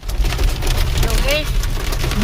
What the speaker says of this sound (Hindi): ओले गिर रहे हैं इतने बड़े बड़े